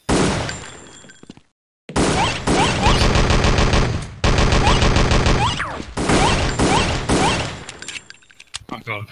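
A nail gun firing rapidly in the Science & Industry game, loud repeated mechanical bursts in long rattling strings separated by brief pauses, with voices talking over parts of it.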